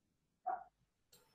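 A single short dog bark sounds from a room shared with several dogs, faint and slightly distant, followed by a soft scuffling noise in otherwise quiet surroundings.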